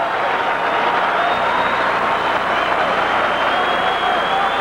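Baseball stadium crowd at a 1987 Red Sox game reacting to the pitcher, a loud, sustained roar of cheering and applause that holds steady throughout.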